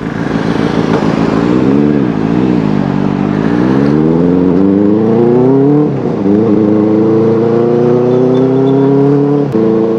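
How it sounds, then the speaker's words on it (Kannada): Benelli 600i four-cylinder motorcycle with a loud aftermarket exhaust without the dB killer, revving and accelerating while ridden, engine pitch rising and falling through gear changes, loud and close, no talk. "ಅಷ್ಟು ಲೌಡ್ ಇದೆ ಸೌಂಡು. ಇದು ಆ್ಯಕ್ಚುಲಿ ವಿತೌಟ್ DP ಕಿಲ್ಲರ್ ಹಾಕ್ಬಿಟ್ರೆ ಕಡಿಮೆ ಆಗಿಬಿಡುತ್ತೆ ಇದು ಸೌಂಡು"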